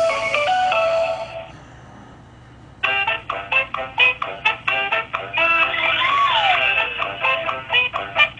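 A telephone ringback tone plays a bright, melodic ringtone-style tune during a call, loud and alone after a short quiet pause, with repeated rhythmic notes.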